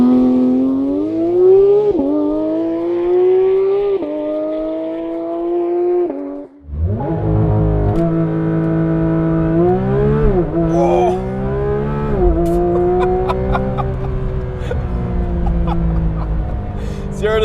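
A Porsche 911 GT3 RS engine revs hard in track mode while readying a launch. Its loud, high wail climbs in repeated sweeps, dips briefly, then surges back with rising revs and sharp blips.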